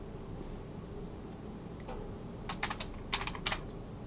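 A password is typed on a computer keyboard as a short run of crisp key clicks, sparse at first and then quicker. The clicks are close and clear over a soft room hum, with no talking.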